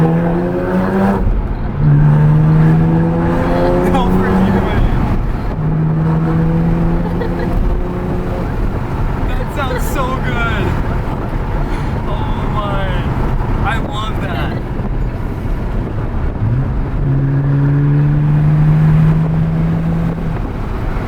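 A Porsche Cayman S with an aftermarket SOUL exhaust revs loudly and repeatedly, its pitch rising and falling in surges, with wind noise throughout.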